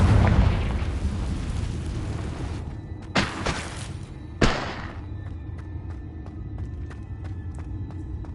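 A Confringo fire spell explodes in Hogwarts Legacy: two sharp, loud blasts a second or so apart burst out of steady rumbling battle ambience, each followed by a brief decaying roar.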